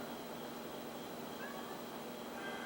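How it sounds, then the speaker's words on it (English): Meowing from a pet cat sounds faintly beneath a dense, steady wash of racing-game noise, with no talking. "Cat, quit meowing"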